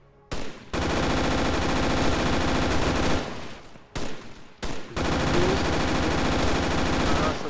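Loud, close automatic gunfire from the ArmA 3 video game rattles in sustained bursts, broken by brief pauses before resuming, with no talk over it.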